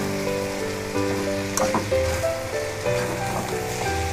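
Flat beans (shim bhaji) with tomato frying in a pan, a steady close crackling sizzle throughout with a few stirring clatters, under a sustained tonal hum.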